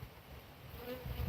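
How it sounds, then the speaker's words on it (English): A bee buzzes faintly near sage plants outdoors, a soft, steady hum under quiet wind and background rumble. "I think there's a bee in there."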